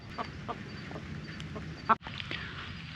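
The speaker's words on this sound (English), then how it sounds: "These are all American breast roosters" Meat-breed roosters on a chicken farm cluck in short, scattered calls at a moderate distance over a low background hum, with a sharp thump near the end.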